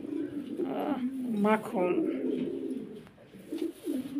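Pigeons coo in low throaty rolls at a Bangladeshi pigeon farm, several close calls rising and falling, while someone speaks briefly over them.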